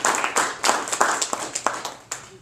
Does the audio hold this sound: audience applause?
yes